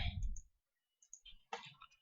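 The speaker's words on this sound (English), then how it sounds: "So just click on free online signature" Computer mouse clicks while working in a Google Doc: a few faint, close, sharp clicks scattered between brief pauses, with a snippet of talk at the start.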